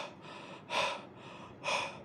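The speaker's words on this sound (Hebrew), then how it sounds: "אנחנו בעצם נושמות ככה מתחילות, ואז מגבירות את הקצב" Two sharp, forceful breaths about a second apart during a fast rhythmic breathing exercise, close and loud over a steady airy background of lighter breathing, with no talking.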